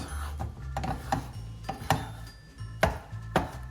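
Scrambled eggs being stirred in a pan, with a utensil scraping and tapping against the pan in uneven strokes, close and fairly soft.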